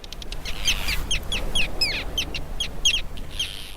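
Antarctic terns calling repeatedly over the Weddell Sea, a colony of sharp, chattering cries overlapping in quick bursts against a steady wash of wind and surf.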